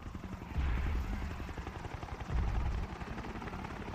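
A helicopter in the video game Ghostbusters flies over Manhattan, its rotor chopping in a loud, steady rhythm with two brief swells of deeper roar.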